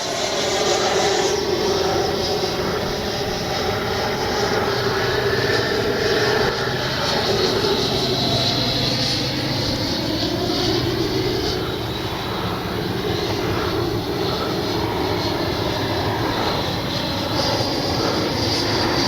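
An FMS Avanti S 90mm electric ducted-fan RC jet roars past in continuous flight, a broad, rushing whine that swells and fades gently as it cruises, steady and fairly loud throughout.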